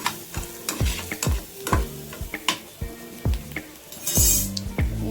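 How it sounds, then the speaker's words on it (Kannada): Ginger garlic paste fries in oil in a pan while a spoon stirs and clinks against the metal in repeated strokes, with a steady soft sizzle beneath and no talking. "ಶುಂಠಿ ಬೆಳ್ಳುಳ್ಳಿ ಪೇಸ್ಟ್ 1 ಟೇಬಲ್ ಸ್ಪೂನು. ಸೊ ಇದು ಚೆನ್ನಾಗಿ ಫ್ರೈ ಆಗಬೇಕು"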